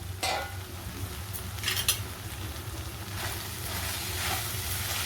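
Steady stirring and scraping of cluster beans in a pan over a low sizzle, with a few louder clinks of utensil against metal.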